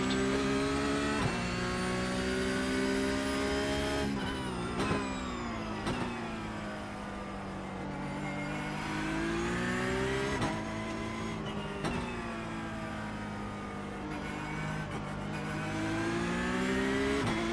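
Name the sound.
Porsche Cup race cars racing at Sebring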